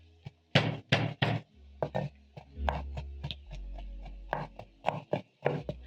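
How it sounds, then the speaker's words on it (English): A knife minces four garlic cloves on a cutting board, giving sharp, close chopping knocks in uneven bursts with short pauses between them. "I'm going to mince my garlic. This is 4 cloves of garlic."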